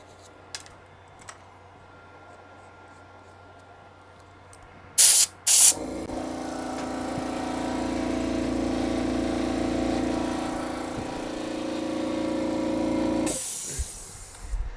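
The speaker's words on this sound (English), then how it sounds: "I hate this air compressor. Just loud." An air compressor nozzle blows air to clean a Nintendo Switch circuit board: a few short sharp bursts first, then a long loud steady hiss lasting several seconds before cutting off, with a last brief puff.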